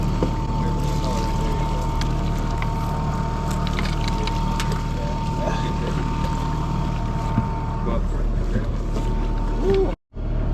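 A boat outboard motor runs steadily throughout on a winter delta fishing trip, a constant droning hum with water and wind noise, cutting out briefly near the end.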